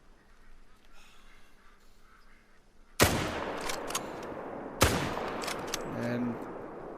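Two sharp, loud rifle shots in a deer hunting video game, fired at a buck, each a sudden crack with a ringing tail, separated by about two seconds after a quiet outdoor ambience.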